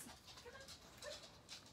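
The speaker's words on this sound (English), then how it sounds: "How did they get a dog in here? How is there a dog?" Dogs whimpering and panting indoors, with soft breathy pants and brief high whines heard close by but quietly, with no talk.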